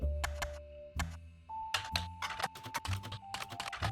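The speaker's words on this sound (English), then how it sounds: "I love the keyboard clickies." Crisp keyboard typing clicks come in quick irregular bursts in the video game The Roottrees are Dead, close and clear over a held musical tone, with no talking.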